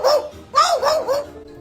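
A magpie imitating a dog's bark, three or four sharp, bark-like calls, one short call and then a quick close-set run, loud and close with no talking.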